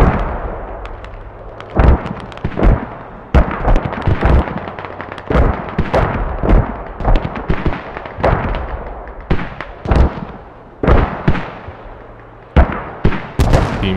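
Mortar fire in the game Squad during a competitive France versus Poland match on Chora, heavy booming impacts and sharp blasts in irregular clusters, some close and loud, others trailing off, with no talking.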